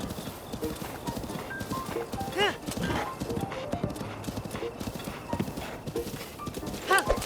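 Horse hooves clip-clop steadily in the Zelda video game, with a couple of whinnies and a voice talking over them.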